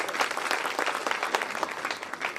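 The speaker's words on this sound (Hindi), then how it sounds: "सम्मान में एक बार तालियां बजाओ आप" Dense, lively audience applause at a Hindi shayari poetry gathering, honouring the poet, many hands clapping close and loud in a continuous roar.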